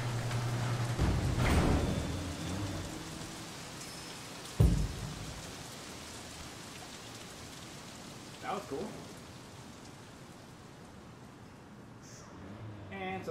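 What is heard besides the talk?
rain in a video game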